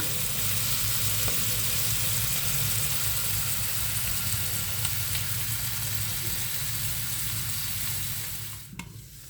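Steady, loud sizzling of ribs frying in a hot pan, crackling continuously before easing off near the end with a brief clatter.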